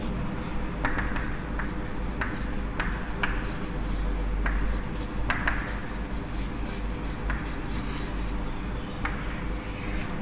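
Chalk or a marker scratches out an electrochemistry equation on a lecture board, with repeated short strokes and taps in an irregular rhythm over a steady low room hum.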